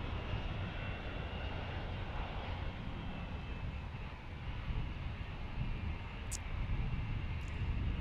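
Boeing 757 airliner at Dallas/Fort Worth airport, its jet engines producing a steady, broad roar that holds at an even level throughout with no voices.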